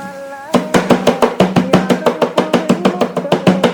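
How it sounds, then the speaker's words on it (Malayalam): Washed herbal ingredients for a homemade hair growth oil crushed with a steady run of sharp, evenly spaced pounding strikes, loud and close, about four per second. "ഇനി നമുക്കിതൊന്ന് ചതച്ചെടുക്കാം."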